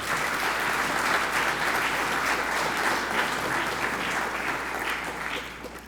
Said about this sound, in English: give your round of applause for all of those who have prepared this event for you this afternoon